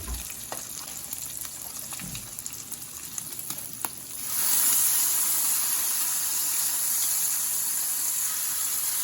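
Steady sizzling and hiss of bacon frying on a hot Blackstone 17-inch E-Series electric griddle, with a few clicks and scrapes before the sizzle swells louder and holds.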